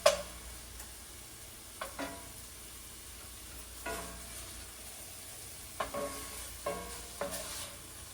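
Cooked, crumbled sausage stirred and scraped in a cast iron skillet over lowered heat, a faint background sizzle broken by a handful of scattered light scrapes and taps of the utensil against the pan.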